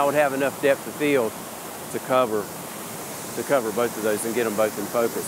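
Steady rushing roar of a waterfall about 30 feet away in a nighttime scene, a constant wash running under someone talking close by throughout.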